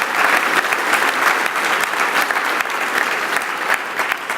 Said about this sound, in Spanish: Y denle un aplauso a Dios con todo su corazón